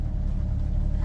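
Engine of a 1984 Dodge RAM D100 truck running, a low steady rumble close to the listener with no talk over it.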